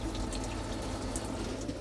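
Water draining from a motorhome's water system through the shower, a steady close trickle and splatter of running water with faint drips, alone and without talk.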